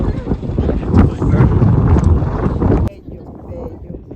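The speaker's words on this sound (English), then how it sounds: "Prepare for lots of wind if you come up here" Strong wind buffets the microphone high on Cotopaxi volcano in Ecuador, a loud, continuous roar and rumble that drops off sharply to a quieter gusty hiss about three seconds in.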